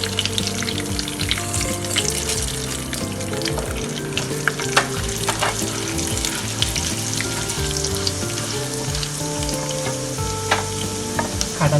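Mustard seeds and urad dal crackle and sizzle in hot oil for a Tamil kollu sundal tempering, a steady close frying hiss with sharp popping seeds throughout, no voices.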